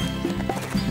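A horse neighs with hooves clip-clopping, a short close burst of whinnying over a steady hoof rhythm, heard alone.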